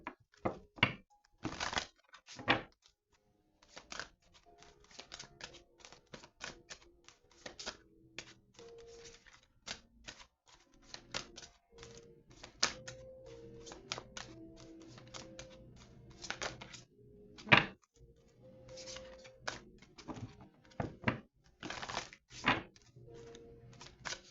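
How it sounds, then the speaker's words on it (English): A deck of tarot cards is shuffled in irregular bursts of crisp slapping and riffling clicks, close and quiet, scattered over about twenty seconds with short pauses between. "as I'm like trying to shuffle this deck, it is difficult to shuffle for me"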